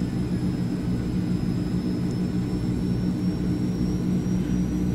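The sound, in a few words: aircraft engine shutting down in video game Microsoft Flight Simulator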